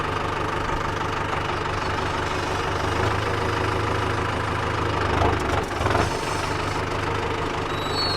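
Tractor with GPS autosteer driving forward, its engine a steady close low rumble running without pause, with a brief dip and a rattle partway through.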